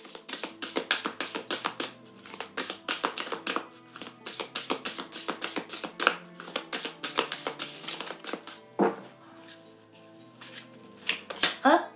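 Tarot cards are shuffled and drawn in a rapid series of soft, crisp riffling clicks and flicks. The sound is quiet, close and steady, with a brief pause near the end.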